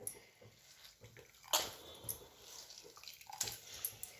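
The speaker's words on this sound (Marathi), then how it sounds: "त्याची अशी पिळा करून पिळून घेणार आहे" Boiled amaranth greens are squeezed by hand, giving soft wet splashes and dribbles of water with a few sharper spatters. The sounds are close, faint and intermittent.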